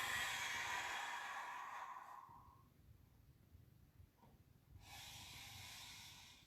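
Long breathy exhalations in a guided breathing exercise, two hissing breaths separated by a quiet pause, close and soft, no talk.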